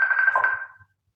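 A phone ringtone chimes briefly and clearly, a single bright tone that fades out within a second, heard alone.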